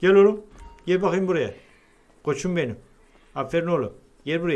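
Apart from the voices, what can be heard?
No everyday noises stand out.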